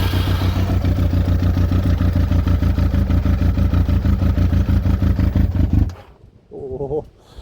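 A Yamaha YZF Thunderace motorcycle engine runs loud and close through its exhaust, a rapid pulsing idle-rev for about six seconds before it cuts out, then one brief voice.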